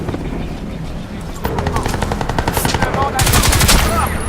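Rapid turret gunfire in the video game Crysis 2, loud sustained automatic bursts that intensify partway through, with a voice briefly audible over the shooting.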